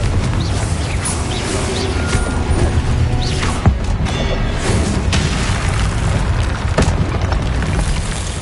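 A Confringo explosive spell bursts in Hogwarts Legacy with a heavy, booming blast, followed by loud, continuous rumbling and crackling debris that fill the scene, with sharp impacts popping out along the way.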